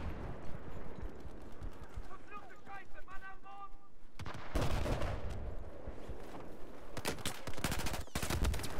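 Battlefield 4 gameplay brings bursts of rapid gunfire and heavier artillery-like blasts, loud and clustered toward the end, under intermittent talk from a player.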